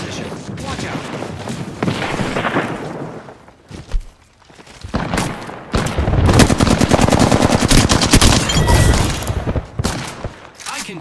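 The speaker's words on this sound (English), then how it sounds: "there is an airstrike in our position" Rapid bursts of automatic gunfire and heavy booms from an airstrike during an Apex Legends match, loud and dense, with a short lull before the firing swells again into sustained volleys.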